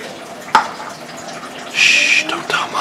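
Tap water runs into a cooking pot for boxed rice, a short splash followed by a steadier hissing stream of pouring, with a voice speaking nearby.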